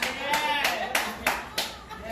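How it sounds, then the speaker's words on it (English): Audience clapping at a comedy show in the East Side Bar and Grill, a series of bursts of applause from roughly a hundred people, swelling and fading several times in quick succession. "Keep on clapping"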